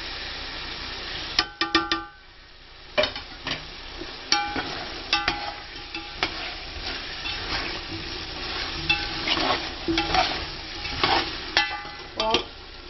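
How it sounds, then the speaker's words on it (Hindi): Masala sizzles and fries in a pan as turmeric is added for chicken biryani, with steady frying hiss and repeated metallic clinks and scrapes of a spoon stirring against the pan, close up. "मसाला अच्छी तरह से भून चुके हैं।"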